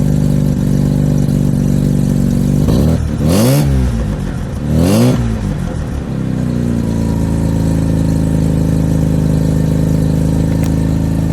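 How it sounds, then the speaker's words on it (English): The small Wankel rotary engine of a 1979 Mazda RX-7 idles steadily, then blips twice in quick revs around the middle, rising and falling sharply before settling back to a steady idle. "Okay, let's get a little rev. Let's see what it sounds like."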